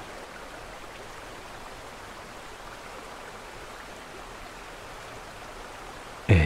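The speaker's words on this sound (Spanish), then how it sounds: "otras pequeñas cascadas caen al suelo" Small waterfalls spill to the ground in a continuous, even wash of falling water, soft and steady throughout, with a brief louder thump at the very end.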